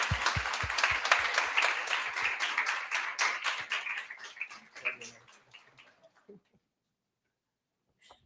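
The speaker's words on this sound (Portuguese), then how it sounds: "Então vamos acolhê-la com uma salva de palmas" An audience gives a round of applause at an academic talk. The clapping is full and steady at first, then thins into scattered claps and fades out over several seconds, with some murmuring underneath, before silence.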